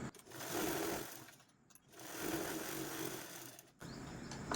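A sewing machine stitches a blouse in two bursts of steady mechanical whirring, each about a second long, with quiet gaps between and a third run starting at the end; faint and close, with no talk.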